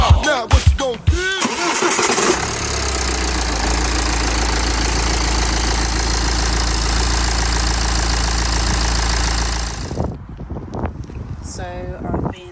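A BMW X1 E84 engine cranks and catches after a few clicks and knocks, then settles into a steady, loud idle for several seconds before cutting off.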